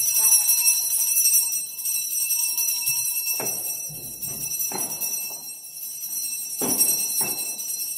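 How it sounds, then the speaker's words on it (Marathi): A small brass hand bell rings during a Diwali Lakshmi puja at home, with a sustained bright metallic shimmer throughout and several sharper strikes standing out, fairly close; a few soft voices and movements sit underneath. "घंटी इकडे ठेवले."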